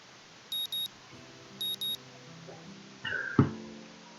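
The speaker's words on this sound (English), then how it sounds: "The sound of an alarm pulls me out of a fitful slumber into the unpleasant state of wakefulness." An electronic alarm clock in the visual novel Katawa Shoujo beeps in two quick paired bursts, high and clean, followed by soft tonal game sounds and a short thump.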